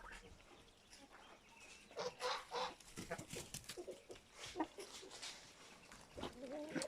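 Chickens and a rooster on a farm cluck and call in scattered bursts at close range, with soft background noise and a quiet voice now and then.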